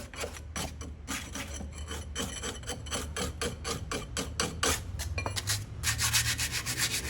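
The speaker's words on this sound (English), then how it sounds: "A bit of scraping is necessary here." Rough, rhythmic rasping strokes of 60-grit sandpaper working a rusty brake caliper from a 2004 Toyota Matrix, close up and repeated in quick back-and-forth passes, growing denser toward the end, with no talking.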